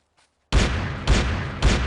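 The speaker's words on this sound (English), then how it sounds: "the ump is what makes the frickin' cannon sounds" UMP submachine gun in Delta Force Land Warrior booming out heavy, cannon-like reports after a short silence, three loud bursts in quick succession, close and dominant.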